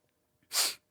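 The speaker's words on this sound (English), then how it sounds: "I gotta sneeze some more" A single sharp sneeze bursts out close to the mic after a brief quiet intake of breath.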